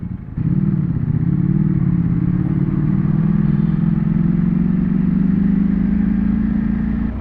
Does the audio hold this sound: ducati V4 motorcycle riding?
yes